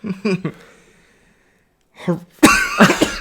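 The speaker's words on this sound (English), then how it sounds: "I've been coughing a lot this episode." A podcast host coughs in a few short, sharp bursts at the start, then after a pause breaks into a louder run of harsh coughs and throat noises close to the microphone.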